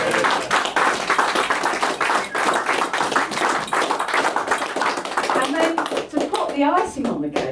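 Clapping from a small audience at a Liberal Club presentation evening, honouring the club's Good Beer Guide entry, with brisk hand claps and thumps under constant talk and voices.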